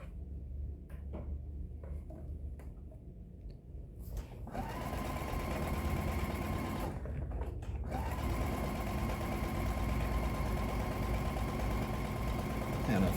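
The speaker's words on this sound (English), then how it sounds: "I'm just sewing together 2 by 2." A sewing machine runs in long steady bursts while stitching quilt pieces for a patriotic rick rack table runner, starting after a short pause and humming continuously and close by to the end, with a brief stop midway.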